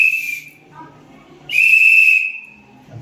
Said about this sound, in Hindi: अच्छा, तो आपके पास सीटी होगा अभी? हाँ थोड़ा बजा के दिखाइए तो कैसे बजाते हैं?